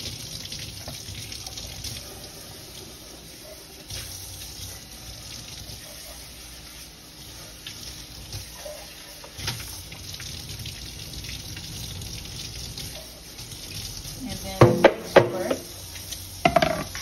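Tap water runs steadily in a sink while peeled shrimp are rinsed, a soft continuous hiss with a few louder splashes and handling knocks near the end.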